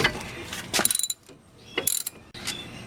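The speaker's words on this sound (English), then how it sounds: "then remove the upper 17mm bolt" A ratchet wrench works loose the upper 17mm caliper bracket bolt on a car's brakes: two quick bursts of rapid clicking pawl ticks, close and crisp, separated by a short pause, with a light metallic clunk toward the end.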